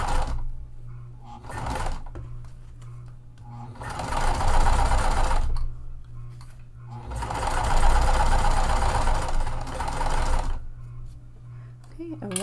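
A sewing machine top stitching mesh onto a tote bag, loud rapid needle chatter in two long bursts separated by short pauses, with a low motor hum underneath.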